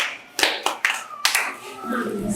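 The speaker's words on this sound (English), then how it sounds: "A sound clap for yourself." A few sharp, separate hand claps from children at a home economics cooking practical in a room, close and loud, with a short pause between them and a voice in the background.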